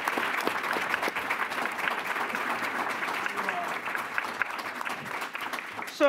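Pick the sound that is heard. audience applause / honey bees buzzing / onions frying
audience applause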